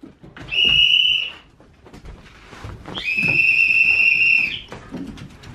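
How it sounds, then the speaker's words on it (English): Two long, shrill whistle blasts, the second longer, with quieter rustling and faint household noise in between. "take the whistle in the other room and blow it"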